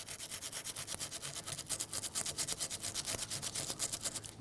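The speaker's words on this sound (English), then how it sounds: "I have some 80 grit sandpaper on a little strip here." A folded strip of 80 grit sandpaper rubs back and forth inside a rusty rear brake drum of a 2011-2015 Kia Sorento, a close, rhythmic, gritty scraping in steady strokes.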